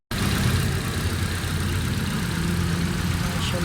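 Hyundai Santro running on CNG, engine idling right after starting, a close, loud and steady low rumble that holds evenly throughout.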